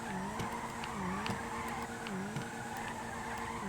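A video game car slides sideways while drifting, tyres squealing in wavering, looping tones over a constant engine drone, with light clicks scattered throughout.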